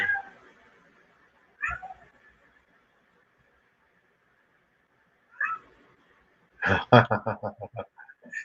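A whiny cat meows several times in a quiet room, first in isolated cries spaced seconds apart, then in a quick burst of short, insistent meows, close and clear.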